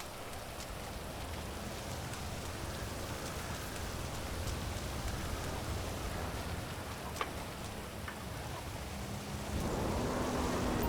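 Steady rain pours down over a video game city in a continuous wash of noise, with a low rumble growing louder near the end and no voices.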